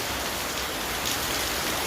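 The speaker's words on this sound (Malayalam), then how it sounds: "എന്ത് മഴയാ. ഇങ്ങനെ മഴ പെയ്താൽ എന്ത് ചെയ്യും?" Heavy rain pours down steadily, filling the scene with a dense, constant hiss of water striking surfaces, with no voices.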